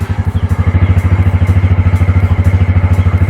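Yamaha PG1 motorcycle engine, which has a check engine fault, starting and then idling close by with a loud steady pulsing thump.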